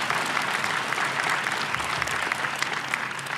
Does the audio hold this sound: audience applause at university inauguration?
yes